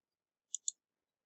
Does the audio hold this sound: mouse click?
yes